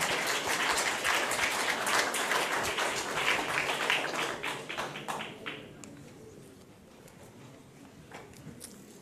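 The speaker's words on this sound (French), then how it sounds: "Vous pouvez l'applaudir, hein," Audience in a conference hall applauding the arriving chief executive of CIRAD, dense clapping for several seconds that gradually thins to scattered claps and fades out.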